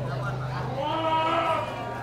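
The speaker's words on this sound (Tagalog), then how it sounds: "Dong, ang ganda ng kambing mo, Dong!" A goat bleats at a livestock market, a few wavering cries rising over steady crowd noise and nearby talking.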